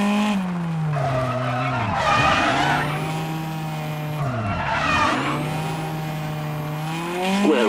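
A rally car in WRC Generations spins through a donut, tires squealing in long sweeping arcs that rise and fall over a droning engine note, loud and close.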